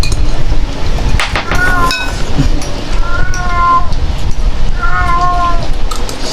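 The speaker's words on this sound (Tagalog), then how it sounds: "Pusa nangihingi." A cat begging for food during a meal meows insistently several times, plaintive rising calls close by, with clinking and background noise between the cries.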